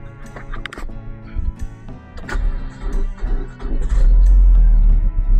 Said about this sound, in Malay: jom try start kereta